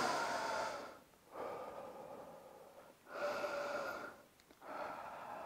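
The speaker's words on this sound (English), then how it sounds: "I'm breathing out now." Three long, forceful exhales during a short rest in a home workout, each a broad airy rush lasting over a second, separated by brief quiet pauses for inhaling.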